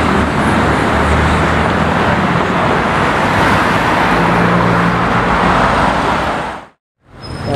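An Alpine sports car driving past during the Gumball rally, a steady loud engine and road roar that holds, then cuts to near silence briefly before resuming.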